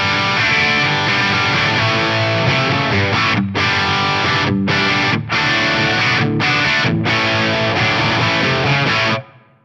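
Heavily distorted electric guitar played through a Friedman BE V3 amp model on an FM3 with a cab impulse and plate reverb, loud rock chords with a few short choked pauses before ringing out and stopping abruptly.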